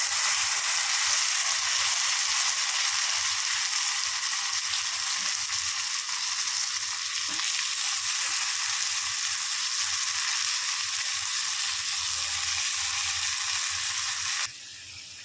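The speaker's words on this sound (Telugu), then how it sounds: "క్యాలీఫ్లవర్ని అంతా వేసేసాను ఒక టెన్ మినిట్స్ గాయస్ ఇది మనకు ఫ్రై అవ్వడానికి ఒక టెన్ మినిట్స్ పడుతుంది" Cauliflower frying in hot oil, a loud, even sizzling hiss that runs steadily for a long stretch before dropping in level near the end.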